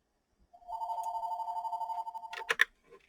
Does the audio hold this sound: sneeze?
no